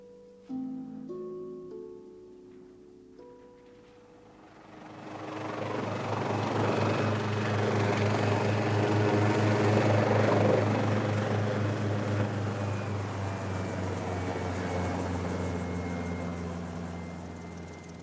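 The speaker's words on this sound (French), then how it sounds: "l'hélicoptère me dépose sur une colline dénudée" A helicopter's rotor and engine swell from a low start into a loud, steady thrumming drone that holds until the end.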